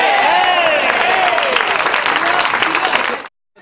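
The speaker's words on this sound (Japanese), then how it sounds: "拍手。" Loud applause from a large crowd at a Tekken 5 Dark Resurrection tournament final fills the clip with steady clapping, then stops abruptly near the end.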